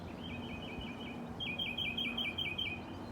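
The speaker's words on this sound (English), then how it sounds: "there's some beautiful birds that are somewhere up in those trees making beautiful music" Birds sing from somewhere up in backyard trees, with repeated high, quick chirping phrases that grow a little fuller partway through, over a soft steady outdoor background.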